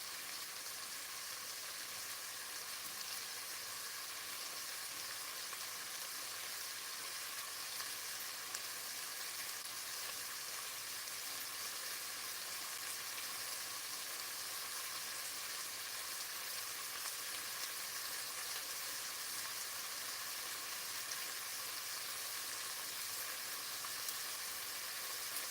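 Chicken pieces, spices and onions cooking in butter in a pan, a faint even sizzling hiss running steadily and unchanged for a long stretch.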